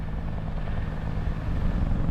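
Helicopter flying on a trip to a heliport, a low continuous rotor and engine drone with a faint pulsing throb, steady and fairly close throughout.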